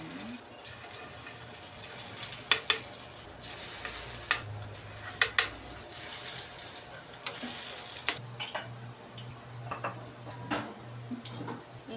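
Meatballs fry in a pan with a low, steady sizzle, broken by scattered clicks and clacks as they are set down and moved around, quiet and close.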